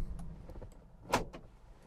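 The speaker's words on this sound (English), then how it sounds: "But if I pull the driver's door shut" The driver's door of a 1974 Toyota Crown pulls shut with a single close thunk, followed by the faint motor whirr of the central locking, heard quietly with no talk.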